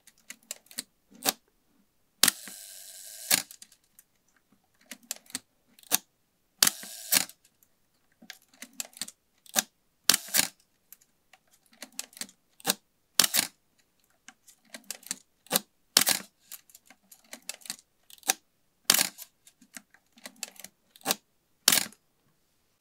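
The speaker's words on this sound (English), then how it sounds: "To me, when you advance, this one sounds a bit more grindy" An Asahi Pentax Spotmatic SP film camera being worked over and over, with sharp mechanical shutter clicks and short ratcheting film-advance strokes, one longer grinding wind among them, in a quiet room.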